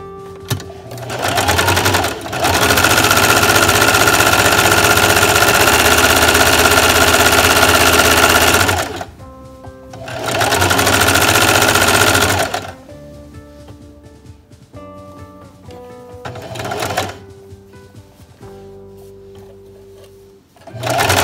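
A sewing machine stitches a newborn-size baby sleeper in long loud whirring bursts, stopping and starting with quieter mechanical handling between runs, close up and with no voices.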